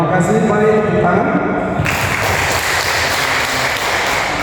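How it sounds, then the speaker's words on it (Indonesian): A voice speaks briefly at an Indonesian teachers' training gathering, then a crowd breaks into steady applause that continues for the remaining few seconds. "Mari tepuk tangan."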